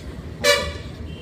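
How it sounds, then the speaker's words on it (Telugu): A single short car horn honk blares nearby over low road and engine rumble. "హార్న్ చూడండి ఇక్కడ హార్న్ అది హార్న్ కూడాను"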